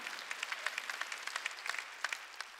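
Church congregation clapping during a Sunday worship service, quick rhythmic hand claps at moderate distance, steady and without speech.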